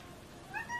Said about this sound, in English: The cat can talk and sing.